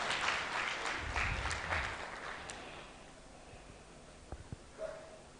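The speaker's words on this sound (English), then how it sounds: "Another round of applause." Audience applause at a Women & Girls in Cyber event in Lilongwe, clapping loudest at the start then thinning and fading out, followed by a few faint knocks.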